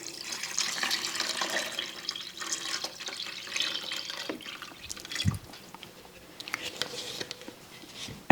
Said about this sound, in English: I'm going to go ahead and add my chicken broth to it